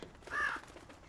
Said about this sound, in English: Bird, what are you doing, bird?